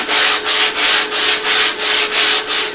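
Coarse sanding on the rough wooden hull of an Akçaabat fishing boat, a loud hissing scrape repeating in steady back-and-forth strokes about every third of a second, close up with no voices.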